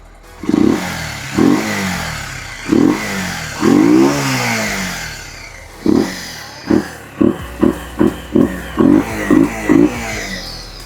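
A Bajaj Pulsar 150 motorcycle fitted with an HP performance air filter is revved up close, first in several spaced throttle blips and then in a rapid run of short sharp revs.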